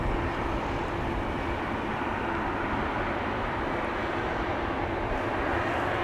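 A brand-new Bulgaria Air Airbus A220-100, also called the Bombardier C-Series 100, departs Amsterdam Schiphol Airport with a steady, loud, broadband jet roar that holds constant throughout.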